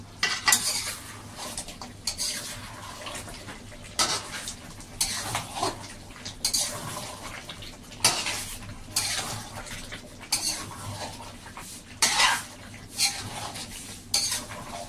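Spice masala fries in a pan while a utensil scrapes and stirs it in repeated loud strokes, metal clinking against the pan over a steady sizzle.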